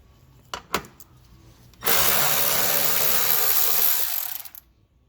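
A power tool whirs steadily for a few seconds while backing out 10mm screws beneath the driver's side front fender of a Chrysler Crossfire, preceded by a few light clicks and stopping abruptly.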